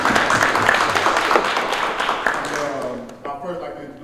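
Audience hand clapping at a football coaches alliance gathering, steady dense applause from a room of people that thins out toward the end, with talking mixed in.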